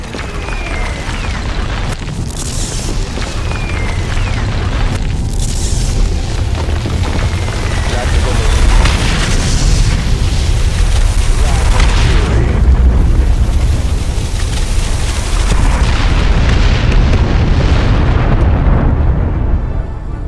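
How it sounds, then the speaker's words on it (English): Orbital artillery strike in Warhammer 40,000: Dawn of War II, a dense, continuous roar of heavy explosions and rumbling booms that stays loud throughout, with faint voices mixed in beneath the barrage. "Hostile orbital artillery!"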